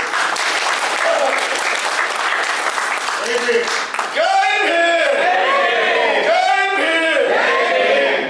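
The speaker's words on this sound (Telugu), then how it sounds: "ఒకసారి అందరూ గట్టిగా చప్పట్లు కొట్టండి" An audience at a political training class applauds together, a dense, loud burst of clapping mixed with crowd voices and cheering calls.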